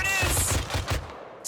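Rapid machine gun fire in the military shooter Arma 3, a close, loud string of rhythmic bursts that cuts off abruptly before a short quiet tail.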